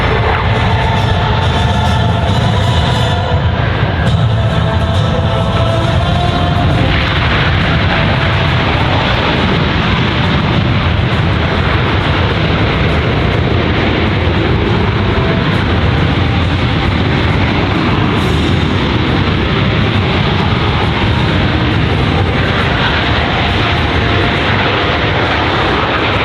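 A Boeing C-17 Globemaster III military transport jet performing a very short landing at an air show, a loud, continuous jet engine roar and rumble that stays steady and powerful throughout, heard at close range with no talking.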